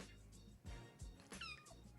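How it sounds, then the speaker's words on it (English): A kitten meows briefly in the middle of the clip, a short rising-and-falling mew close to the microphone, over low room noise. "Sorry, had a kitten there."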